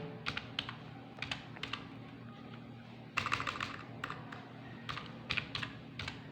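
Bursts of keystrokes on a computer keyboard as product names are typed into a Microsoft Excel bill-entry sheet, quick irregular clicks with short pauses and a denser flurry midway, close and clear with no talking.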